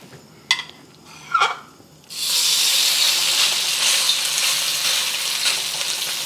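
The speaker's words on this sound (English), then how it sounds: "Heating the wok back up to medium-high, adding a tablespoon of oil. And we're going to cook our pork." Ground pork hits hot oil in a wok on medium-high heat after two light clinks, then a loud, continuous close-up sizzle and hiss runs to the end.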